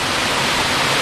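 Yongchu waterfall on Sarangsan mountain, a steady, loud rush of falling water filling the whole moment with even broadband noise and no voices.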